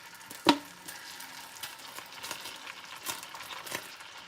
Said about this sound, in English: What I'm doing right here is infusing the butter with garlic.